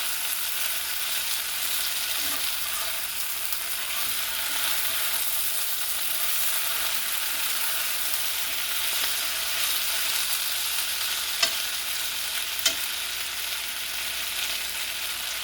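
Potatoes fry in a pan with a steady, even sizzle throughout, broken by a couple of faint scraping clicks as they are turned over.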